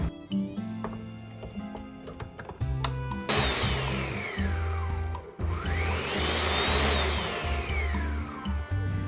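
A kitchen blender purees Carolina Reaper peppers for jelly. The loud motor roars in a few pulses, its whine rising and falling in pitch as the contents churn, with short pauses between bursts.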